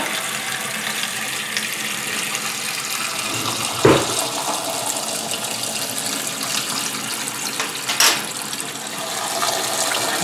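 Cold tap water runs steadily into a pot, a constant close splashing rush with a couple of brief knocks as the pot shifts.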